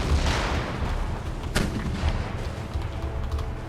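Cannon artillery fires in a battle in the video game Empire Total War, a dull boom with a sharp crack near the middle over a rumbling, continuous din of distant gunfire.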